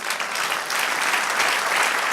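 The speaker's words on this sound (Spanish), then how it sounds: "Dale un aplauso al Señor." Congregation applause fills a church service, a dense, steady wash of clapping from many hands lasting the whole moment with no voices on top.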